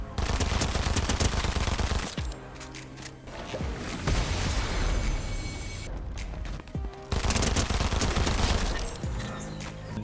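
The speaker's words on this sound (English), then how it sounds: "Dual SMGs absolutely shred." Dual SMGs fire in a video game in long rapid automatic bursts, loud and close, separated by short quieter gaps with scattered impacts and game noise.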